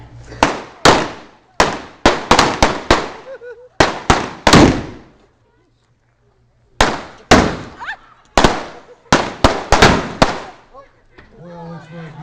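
Loud sharp bangs from a shotgun and other blank-fired guns go off in rapid irregular bursts during a western stunt show at an outdoor ghost town, each crack echoing, with a quiet gap midway and faint voices near the end.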